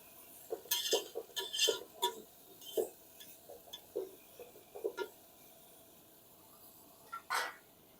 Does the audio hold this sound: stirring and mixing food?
yes